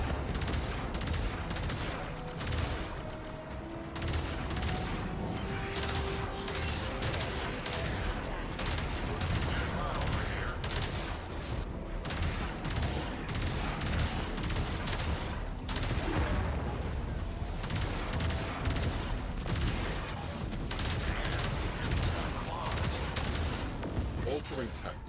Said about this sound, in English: Arming torpedoes, locking on to their signature, firing.